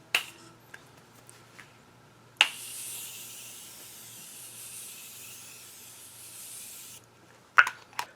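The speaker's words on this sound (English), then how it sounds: "I'm going to set my face with the Morphe setting spray." Morphe setting spray misted onto a face in one steady hiss of about four and a half seconds, with a sharp click of the nozzle before and clicks of the bottle handled after.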